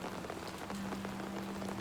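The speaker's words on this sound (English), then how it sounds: "the sound of the rain on that umbrella's cool" Rain patters steadily on an umbrella in the video game Batman: Children of Arkham, a soft, even hiss of drops with a faint low hum beneath and no voices.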